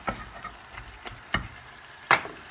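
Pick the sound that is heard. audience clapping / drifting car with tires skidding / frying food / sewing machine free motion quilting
frying food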